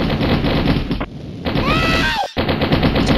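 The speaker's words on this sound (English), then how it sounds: "I definitely had more shots than Rahul and he still kills me" Rapid gunfire and explosions from the Mini Militia mobile shooter game, dense and chaotic, with a short gap and sweeping tones before the shooting resumes.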